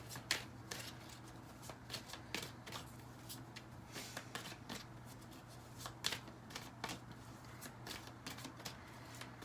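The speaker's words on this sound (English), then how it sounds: "Let me just pull one more card." A deck of tarot cards is shuffled by hand close up and quietly, with repeated riffling bursts and soft slaps at an uneven rhythm.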